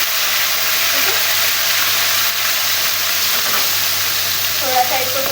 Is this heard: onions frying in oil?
yes